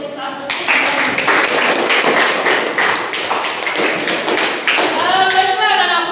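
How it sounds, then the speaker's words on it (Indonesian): A classroom audience claps for a student presenter in a dense burst of applause lasting several seconds, close and fairly loud, with a voice speaking near the end. "Ya, aplaus dulu untuk Lisa Suti."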